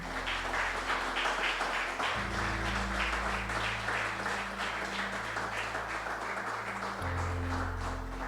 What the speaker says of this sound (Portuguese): E as palmas louvem a esse Deus soberano e poderoso.